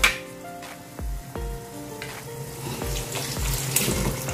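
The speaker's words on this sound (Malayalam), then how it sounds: "നമ്മൾ വേവിച്ച് വെച്ചിട്ടുള്ള ബീഫ് ഇതിലേക്ക് ഇട്ട് കൊടുക്കാം" Pressure-cooked beef and its watery juices are tipped into a pan for Tamil Nadu Thalappakatti beef biryani, with splashing pours, soft clunks and a light sizzle close by, and no talk.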